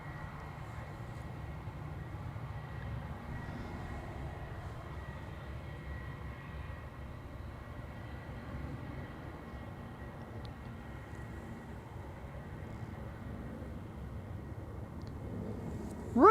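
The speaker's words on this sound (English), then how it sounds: "Transavia flight 6006 arriving from Salzburg" A Transavia passenger jet arrives at Amsterdam Schiphol, a low, steady engine rumble with a faint high whine, distant and soft, sustained for over a quarter minute.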